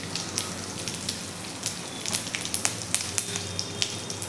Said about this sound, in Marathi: जिरे आपले तडतडले की त्यामध्ये थोडासा हिंग घालून घेऊयात.